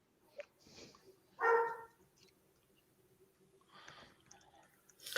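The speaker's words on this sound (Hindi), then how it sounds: "कुत्ते की आवाज आ रही है" A dog barks in the background of a home livestream, one sharp distinct bark in the middle of the clip with fainter noises around it and no talk over it.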